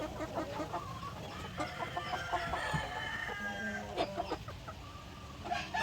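Barred Rock chickens cluck steadily while a rooster crows partway through, close by in a farm pen, with overlapping calls from several birds.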